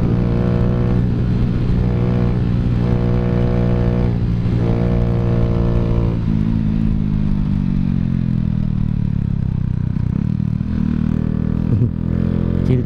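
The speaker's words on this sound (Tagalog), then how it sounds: "mariramdaman lang nyo yung makina natin" Motorcycle engine with a 10-hole injector droning steadily while riding, loud and close, with a harmonic hum that shifts pitch as the throttle changes, no talk.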